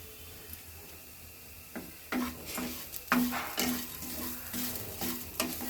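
Grated coconut and curry leaves roasting in a pan for bitter gourd pitlai, a soft dry sizzle with repeated scraping stirs of a spoon against the pan in an uneven rhythm, no voices.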